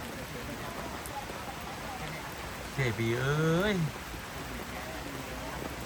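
Heavy rain pours down in a steady, dense hiss that fills the whole stretch, with a voice speaking briefly over it midway.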